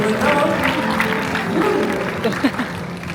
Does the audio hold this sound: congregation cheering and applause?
yes